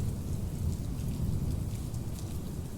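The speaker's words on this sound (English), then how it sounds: "I can hear the wind picking up, the thunder" A thunderstorm brings steady rain with a deep, continuous rumble of rolling thunder underneath, a low and fairly quiet wash of sound with no one talking.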